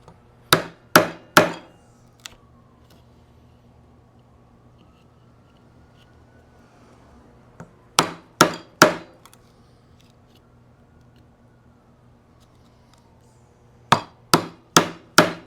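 A chisel is struck with a mallet while cutting a mortise in a wooden workbench, heard as three separate bursts of three or four sharp, close thwacks, with quiet gaps between the bursts.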